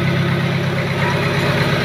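A 40R5 diesel engine powers a rice mill, running with a steady loud mechanical drone and an even low throb throughout.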